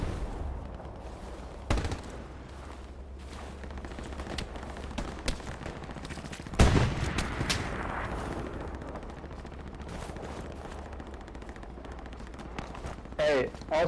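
Gunfire strikes the player in a first-person shooter, with a few sharp impacts and bursts scattered over a low battlefield rumble while players talk.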